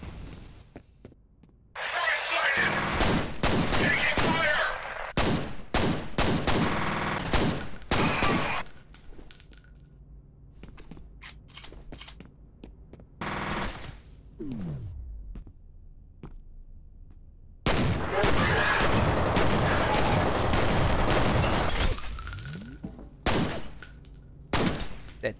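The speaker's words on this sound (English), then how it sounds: "An assault rifle." Assault rifle fire in the shooter game F.E.A.R., with loud bursts of rapid shots and cracking impacts in clusters, separated by quieter gaps, alongside other game sounds and some talking.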